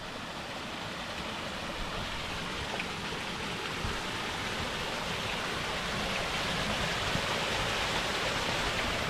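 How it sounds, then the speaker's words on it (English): A steady, full rush of falling water roars continuously, fairly close and unbroken throughout. "I love a waterfall."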